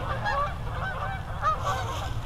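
A flock of geese honk together in overlapping calls as they take off on an October morning, heard at a moderate distance over a constant low outdoor rumble.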